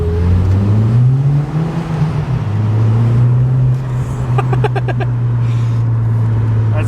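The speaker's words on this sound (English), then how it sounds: "It's got a good noise, a lot of induction" Engine of a 2009 Volkswagen Polo GTI 9N3 pulling hard in first gear through a tunnel, a loud, close, reverberant induction drone rising in pitch, then holding steady with a brief lift around the middle.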